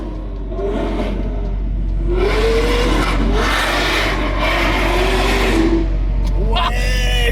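A Lamborghini Aventador SV with an unusual engine noise revs up close, its pitch rising and falling in long sweeps over a rough, grinding rasp, with voices talking briefly.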